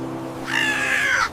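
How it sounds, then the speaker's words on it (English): A cartoon crow gives a single drawn-out caw, loud and close, rising from quiet forest ambience and ending abruptly. "Even the crow went home happy."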